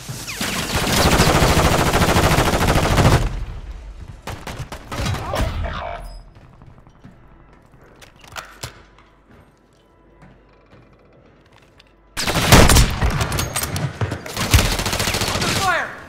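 Video game gunfire crackles in dense automatic bursts, loud and sustained for a few seconds, then scattered shots and thuds trail off into near quiet before another heavy burst of rapid fire erupts near the end, with voices briefly audible.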